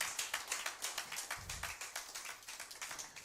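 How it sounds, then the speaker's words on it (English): A seminar audience clapping, steady rhythmic applause from many hands filling the room at moderate volume, with a brief low thump partway through. "If you are clapping, please clap."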